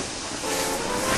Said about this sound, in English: He was so scared he let out a huge burst of steam